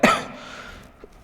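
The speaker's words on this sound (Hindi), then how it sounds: "खांसी कुछ ज्यादा ही आ रही है।" A single short cough from a man explaining a reasoning lesson, loud and close, followed by a quick breath or second burst at the end.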